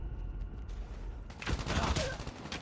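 Gunfire in Call of Duty Mobile during a tournament match, a burst of rapid shots piercing a wall that starts midway and continues as dense crackling volleys over low background sound, with a faint voice beneath.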